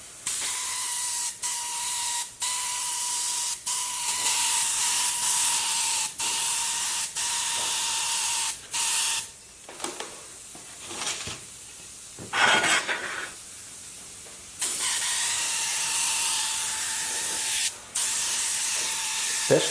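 An airbrush sprays glass separator onto a plate in long hissing bursts, with a steady whine beneath and short clicks between passes, then a quieter break with brief knocks and handling before spraying resumes.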